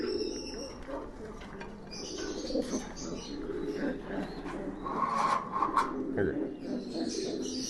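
A homing pigeon held in the hand gives soft, low coos amid rustling and faint background chirps, with a brief flutter near the end; no clear talking.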